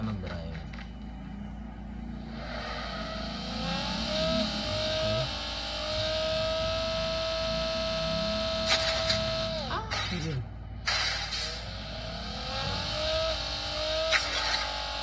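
Car engine in Call of Duty: Mobile on a phone, revving and shifting pitch as the vehicle drives, loud and close with brief skids, game effects and a voice speaking over it.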